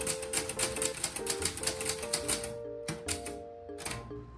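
Rapid, uneven keystrokes and carriage clacks from a Clover Topstar Korean Hangul manual typewriter, close and clear, with faint mechanical ringing tones between strikes and a few separated final taps.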